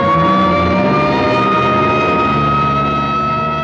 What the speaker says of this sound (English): here comes an ambulance out.